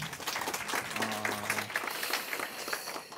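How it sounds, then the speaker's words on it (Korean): Audience at a Korean fire-service job interview information session applauds in a steady round of clapping, with a brief tonal hum partway through. "박수 한번 해주십시오"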